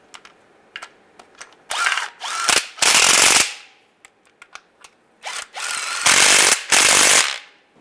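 A power tool whirs in bursts while tightening timing chain bolts on a 2007-2013 Chevy Silverado engine, loud close runs of about half a second to a second, separated by small metallic clicks and taps.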